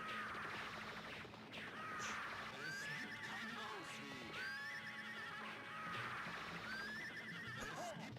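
A horse in the arcade game Rastan Saga Episode III gives repeated whinnies over a busy stream of game effects and clip-clop, with three distinct neighs spread evenly across the stretch.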